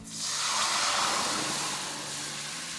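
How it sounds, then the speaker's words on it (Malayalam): Buttermilk poured into a hot pan: a loud, steady hiss swelling quickly then holding as a broad sizzling rush, with no voices. "ഉടൻ തന്നെ മോര് ഇതിലേക്ക് ഒഴിക്കുക"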